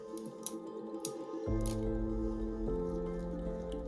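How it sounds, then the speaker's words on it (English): Support material on a 3D-printed pellet magazine part for a .22 caliber FX Impact air rifle being peeled away, a few quiet snips and cracks followed by a soft sustained tearing rasp, close and faint. "then you can easily just peel the support away"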